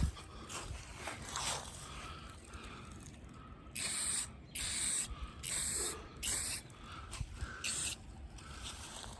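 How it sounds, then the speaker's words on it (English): Aerosol black paint sprayed onto a 1964 Pontiac Tempest, a series of about six hissing bursts of a second or so each, separated by short pauses, over a faint background hum. "Just going to give it a nice coat of black."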